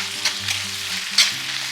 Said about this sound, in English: Toss the vegetables and udon noodles with the sauce